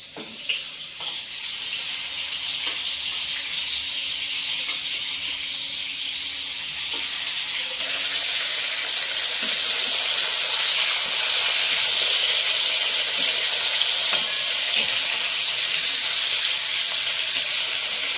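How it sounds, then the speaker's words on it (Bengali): Catla fish heads fry in oil in a wok, giving a steady, close hissing sizzle that grows louder and denser partway through, with no talking. "মাছের মাথাগুলো ভেজে নেব।"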